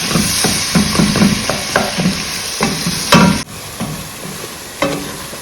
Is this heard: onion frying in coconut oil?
yes